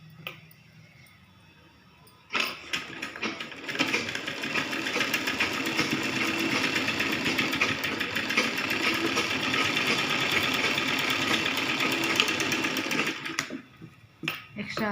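Sewing machine stitching a child's baby saree, starting after a quiet moment and then running at a steady, close whir for about ten seconds before stopping.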